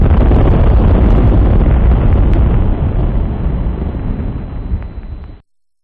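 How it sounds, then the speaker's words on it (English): A firecracker with a waterproof fuse goes off underwater at the bottom of a beer bottle, giving a loud, dense burst of rumbling noise that holds strong for about five seconds, then cuts off abruptly. "How about detonating a firecracker in a bottle of beer?"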